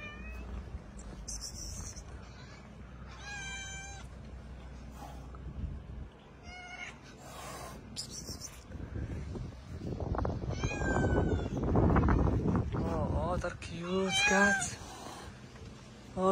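A kitten meows repeatedly, with several clear, high-pitched calls spread across the clip over a low background rumble and some handling noise.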